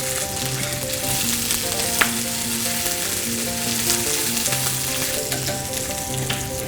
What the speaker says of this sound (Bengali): পেঁয়াজটা একটু লাল হলেই চেরি টমেটো ওকে চেরি টমেটোগুলো আস্তই দিয়ে দিলাম